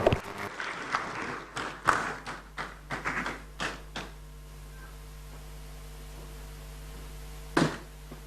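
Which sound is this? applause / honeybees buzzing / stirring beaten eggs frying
applause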